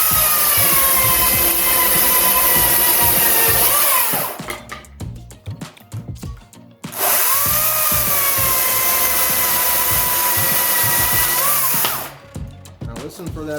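A Makita 40V Max power tool motor screams at high RPM in two long bursts, each spinning down with a falling whine into quieter gaps, loud and close with no talk.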